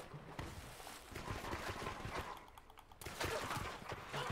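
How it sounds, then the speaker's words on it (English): Gunfire in Call of Duty Black Ops 3 on a snowy Redwood map, a dense run of fast, mid-distance shots that rattle on and off for several seconds, with mechanical clatter mixed in. "Who's shooting at me?"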